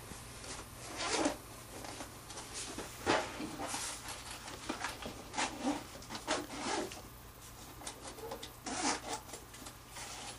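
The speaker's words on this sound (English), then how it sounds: "this would zip up really nicely" A Zildjian cymbal gig bag holding crashes, hi-hats and a China cymbal is zipped closed, with close, scratchy zipper pulls and fabric rubbing in uneven bursts.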